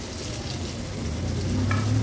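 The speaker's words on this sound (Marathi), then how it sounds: "पुन्हा गॅसची फ्लेम लो टू मीडियम वर करते आणि मागची बाजू पण व्यवस्थित फ्राय करून घेऊया" Pieces of tuna fish frying in a little oil in a pan over low to medium flame, a dense close sizzle that builds slightly louder, with a brief clink of stirring near the end.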